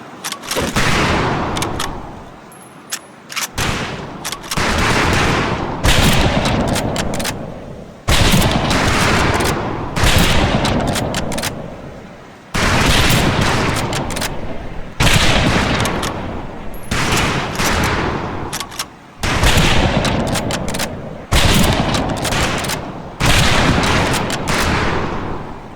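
Repeated rifle volleys on a firing range in the Medal of Honor Pacific Assault game, loud close bursts of gunfire in roughly regular bouts separated by brief pauses.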